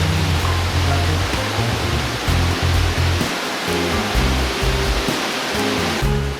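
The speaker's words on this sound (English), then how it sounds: "Ramona Falls is 120 feet high and it is beautiful to see the water spread out as it cascades down to black basalt rock" Water pours steadily off 120-foot Ramona Falls onto black basalt rock, a dense, even roar of falling water with soft music playing underneath.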